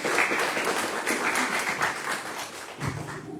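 Audience applause for a professor at a book conversation event, steady clapping from a small crowd sustained throughout at moderate volume.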